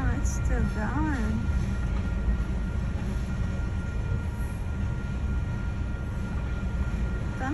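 A long freight train rolls past continuously with a steady low rumble and clatter of cars, a horn-like tone briefly rising early on, while people talk faintly nearby.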